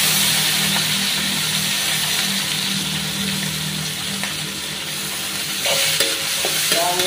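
Onion with red and green chilies sizzles steadily in a frying pan, a continuous loud crackle with occasional stirring scrapes near the end and no talking.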